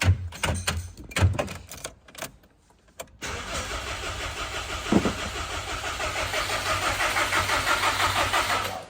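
A Prodrive Subaru WRX engine cranks over in several uneven bursts, pauses, then catches and settles into a steady, close, rough idle that continues with a faint rhythmic ticking.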